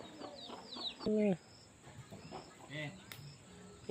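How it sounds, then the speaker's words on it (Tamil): A chicken wanders near firecrackers during Diwali celebrations, giving short clucks amid faint insect chirping outdoors, with people talking nearby. "கூறுகட்ட கோழியே அங்கேயே போகுது பாரு"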